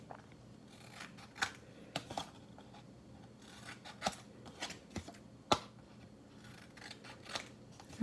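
Scissors snipping the corners off a paper skateboard shape in a quiet room, a series of short, crisp, close cuts spaced irregularly, with soft paper rustling between them.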